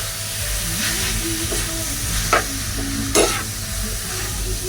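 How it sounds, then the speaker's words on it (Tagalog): Pork large intestine fries in its own rendered fat, giving a continuous close sizzle while a utensil stirs it, scraping and clinking against the pan a few times. "So halo-haloin lang po natin hanggang lumabas ang kanyang mantika"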